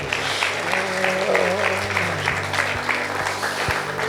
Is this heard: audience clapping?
yes